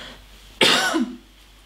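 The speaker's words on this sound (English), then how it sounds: "I don't even know why I'm coughing." A person gives a single short, harsh cough close by, ending in a brief throaty voiced tail, against quiet room background.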